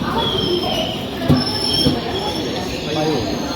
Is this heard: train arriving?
yes